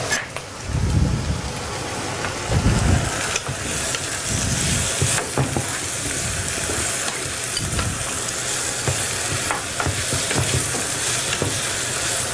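Mushrooms frying in a pan and being stirred: a steady sizzle and hiss throughout, with repeated bursts of scraping and stirring from a utensil, close and fairly loud.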